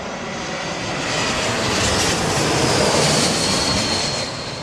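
Airbus A220 jet engines roar at Heathrow Airport in high winds, a broad, steady rushing drone that swells gradually and peaks midway before easing slightly, loud and fairly close with no voices.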